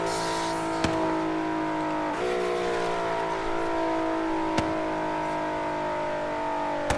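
Bentley EXP 10 Speed 6 in Forza Horizon 3 holds a loud, steady high-speed engine drone with a brief pitch dip like a gear shift, and sharp backfire pops crack over it twice.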